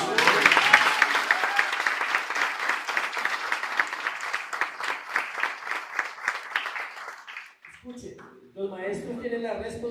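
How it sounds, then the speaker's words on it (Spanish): A church congregation applauds during a sermon, producing dense, sustained clapping for several seconds that stops abruptly, after which a voice resumes speaking. "¿Cuánto le dan un aplauso a Jesús?"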